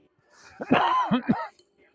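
A single person coughs a few times in quick succession, close by, with a brief hoarse throat sound between short bursts.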